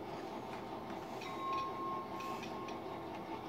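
A model train switches cars in a home train room, with faint rolling rail noise, light clicks and a brief thin squeal at low volume.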